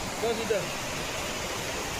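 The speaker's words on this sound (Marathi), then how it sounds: "छोटे छोटे धबधबे." Small waterfalls give a steady, even rushing hiss that stays constant throughout, with a brief faint sound near the start.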